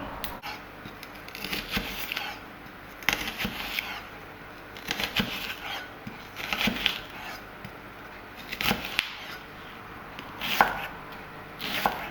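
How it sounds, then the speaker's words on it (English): A knife chopping onions on a cutting board for chilli con carne, bursts of quick close chops in irregular clusters separated by brief pauses, no talking. "So we cut the onions."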